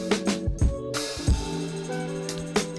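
Mixed music played through a UAD Oxford limiter on the master bus of an Ableton session, sustained tones with punchy percussive hits recurring every half second or so, dense and evenly compressed.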